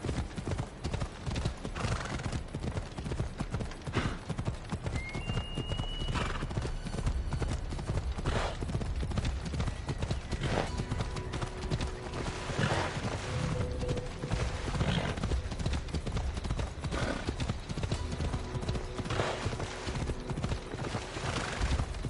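Horse hooves clip-clop steadily on the ground in Assassin's Creed Odyssey, close and continuous throughout, with occasional whinnies and creaking mixed into a busy game soundscape.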